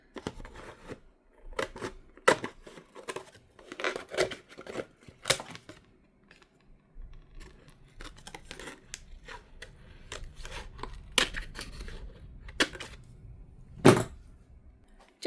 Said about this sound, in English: Just realized I was using my nice yarn scissors I use to cut this.